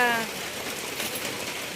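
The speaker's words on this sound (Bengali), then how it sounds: "এই যে বৃষ্টি পড়তেছে" Rain falls steadily onto surfaces, a dense even patter and hiss heard up close, with faint voice traces briefly at the start.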